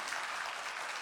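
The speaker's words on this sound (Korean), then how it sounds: "다시 한번 격려와 축복의 박수 하도록 하겠습니다" Church congregation clapping for the Zion choir at a Sunday service, a steady wash of many hands applauding at moderate distance, heard only briefly.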